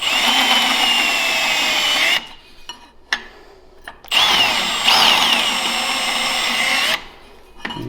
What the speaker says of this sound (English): Then I got a 3/4 inch deburr bit, countersink bit. I'll run my drilling low.